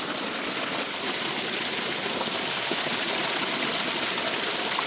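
Water pouring steadily from a village water tap onto stone, a continuous close, loud rushing splash with no breaks or talk.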